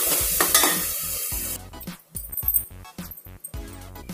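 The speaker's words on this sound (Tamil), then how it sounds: "வெங்காயம் வந்து நல்ல பதங்கற வரைக்கும் நல்ல கிண்டிட்டே இருங்க" Onions with a little salt sizzle and fry in a pan while being stirred steadily toward chicken gravy, producing dense frying hiss broken by repeated scraping strokes of a utensil, close and fairly loud with no talking.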